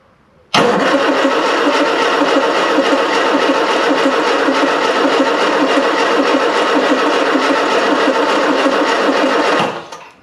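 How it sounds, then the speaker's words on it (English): Classic Mini van engine, off the road for 25 years, cranks steadily and loudly for about nine seconds with a continuous churning starter rhythm, starting abruptly and stopping at the end. "Let's see if it can just crank some fuel up first."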